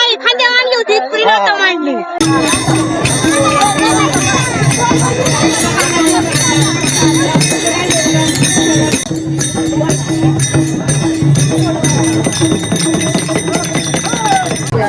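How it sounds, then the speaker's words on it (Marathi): A dense crowd of devotees at a palkhi procession in a village, with continuous voices, chatter and clattering hooves, loud and close, after a brief quieter opening with a single voice. "भाविकांची एवढी भयंकर अशी गर्दी चाललेली आहे"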